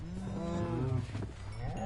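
Cows mooing in Minecraft Bedrock Edition, a long low drawn-out moo rising and falling over nearly two seconds, with a second overlapping bovine call near the end, heard clearly and alone.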